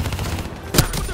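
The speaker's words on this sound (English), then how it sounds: "Give me some cover fire" Video game gunfire in Call of Duty Black Ops 3, a fairly loud stretch of battle noise with one sharper shot standing out near the end, no voices over it.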